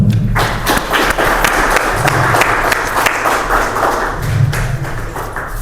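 Applause from the audience at a Spanish-language history conference on the Cristero War, a broadband patter of clapping with low thuds and a steady hum, sustained and moderately loud for several seconds.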